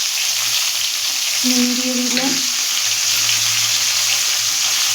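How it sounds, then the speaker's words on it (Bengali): Cauliflower frying in oil in a pan, a steady broadband sizzle throughout with a brief stir or scrape in the middle; a voice speaks briefly over it. "লাল করে ফুলকপিটা ভালো করে ভেজে নেব।"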